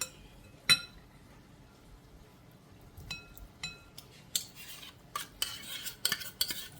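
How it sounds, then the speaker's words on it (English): A fork clinks and scrapes in a bowl while chopping and mixing salmon patty mixture, with quiet sparse taps at first, then quicker clusters of metallic clicks toward the end. "chop up those lumps just a little bit to where they're not huge lumps."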